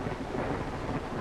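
Steady heavy rain with a low thunder rumble outside an old house on a stormy night, loud, dense and continuous, with no voices.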